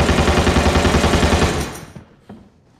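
Rapid automatic video game gunfire rattles loudly and steadily for about a second and a half, then stops, leaving a faint echoing tail and a soft click.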